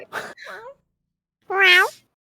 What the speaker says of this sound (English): The cat will offer the cat noise.